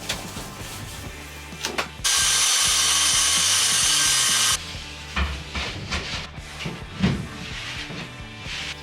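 A power nail gun or driver tacks a plywood sheet onto a wall stud shared by two panels while an old shed becomes a rustic workshop, giving a loud sustained two-second burst of machine noise, with sharp knocks and handling clatter before and after.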